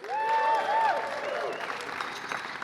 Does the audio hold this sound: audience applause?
yes